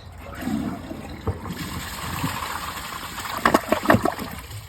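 A Glacier Bay high-efficiency dual flush toilet flushes a rag and a sock, a moderate gurgling rush and trickle of water with a few sharper splashing bursts toward the end.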